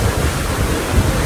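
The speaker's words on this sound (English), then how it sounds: "We're in the midst of this waterfall." Dense, roaring rush of a waterfall at Shepherd's Dell in the Columbia River Gorge, a steady broadband wash of falling water heard up close and loud, with no voices over the brief stretch.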